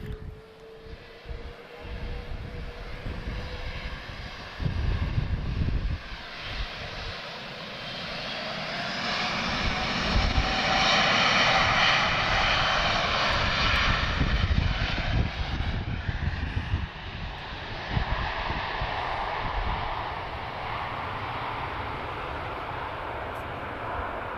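An Airbus A330 takes off at Lisbon Airport, its jet engines building from a low rumble to a loud, sustained roar that peaks midway and then slowly fades as the aircraft climbs away.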